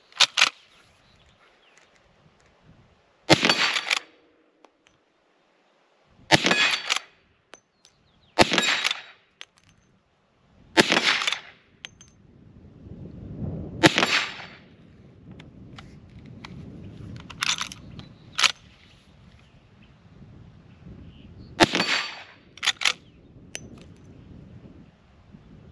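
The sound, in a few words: 1873 Winchester Miroku lever-action rifle firing Remington hollow points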